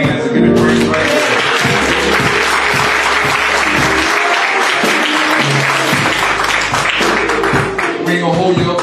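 A church congregation at Sunday morning worship claps steadily and loudly throughout, with bass-heavy music and a voice running beneath the applause.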